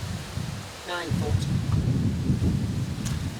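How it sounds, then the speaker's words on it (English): Strong wind buffets an outdoor allotment plot, a loud low roaring rush that gusts against the microphone throughout, while someone speaks briefly over it. "it's a windy day, really windy day today"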